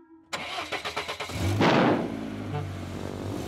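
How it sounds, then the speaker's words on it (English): A cartoon truck engine cranks with a quick series of pulses, then catches and revs up loudly before settling into a steady rumble. "Let's have a nice loud rev."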